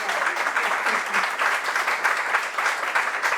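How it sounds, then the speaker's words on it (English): Audience applause at a book talk event, a steady wash of clapping hands from a crowd held at even loudness throughout. "Let's give a round of applause to Anna."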